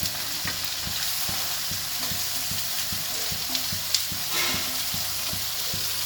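Beans and carrots sauté over medium heat for vegetable fried rice, a steady close sizzle with a rhythmic scrape of a spatula repeating about every half second, no voices.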